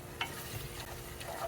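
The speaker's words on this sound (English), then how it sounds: "our garlic's been cooking for about a minute" Garlic cooking in a pan for about a minute, a soft continuous sizzle with light stirring scrapes and a few brief clinks, steady and close throughout.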